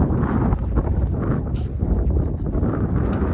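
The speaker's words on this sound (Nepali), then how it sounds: "हावाले हिँड्नै गाह्रो हुँदो रहेछ" Strong mountain wind buffets the microphone on the trail to Tilicho Lake in the Himalaya, a loud continuous roaring rush with gusty swells throughout, close and alone.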